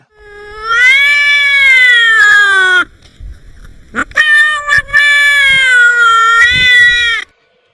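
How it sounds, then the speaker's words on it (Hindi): Two long, loud, drawn-out cat wails, close and plaintive, separated by a short pause with a brief yowl between them. "जैसे किसी बिल्ली के रोने की आवाज़"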